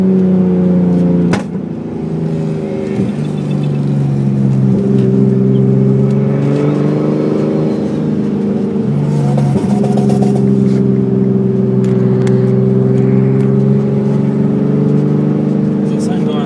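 A Mercedes-AMG and a Nissan R32 GTR accelerate at a Powercruise event, their engines droning loudly and steadily throughout, with a speaker talking over them.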